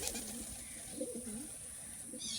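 Pigeons offered for sale at a home loft coo repeatedly in low, throaty warbling phrases, close and steady, over a constant background hiss.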